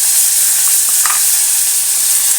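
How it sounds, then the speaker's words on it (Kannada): Paneer fries in a pan with chili powder for palak paneer pulao, giving a loud, steady sizzle close by with a few light stirring taps. "ಇದರೊಳಗೆ ನಾನು ಪನ್ನೀರನ್ನ ಹಾಕ್ತಾಯಿದ್ದೀನಿ, ಫ್ರೈ ಮಾಡ್ತಾಯಿದ್ದೀನಿ"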